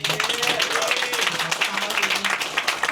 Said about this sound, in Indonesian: Tepuk tangan untuk Stand Up Indo Tokyo